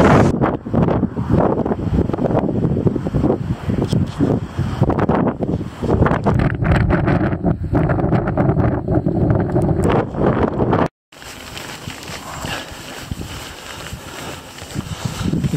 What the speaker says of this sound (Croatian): A još puše vjetar, i dalje puše vjetar